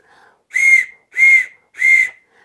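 Three short, evenly spaced blasts come from a wooden whistle, each a clear, steady, high-pitched tone of about half a second, loud and close with quiet gaps between.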